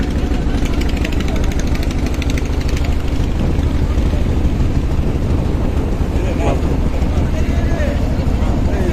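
A sand-laden engine boat, riding low and heavy in the water, chugs past on a river in Bangladesh, its steady broadband engine drone continuous and fairly loud throughout, with faint voices underneath.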